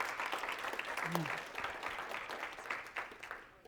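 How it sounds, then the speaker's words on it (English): Faint, steady audience applause welcoming trainer Brian Cummings at a morning training session, a continuous patter of many hands with a few voices murmuring underneath. "please give Brian Cummings a very warm applause and welcome as he is your trainer"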